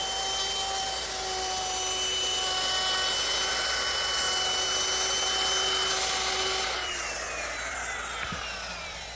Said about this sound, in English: I'm rounding over the top edges of the seat slats using the same 1/4 inch rounding over bit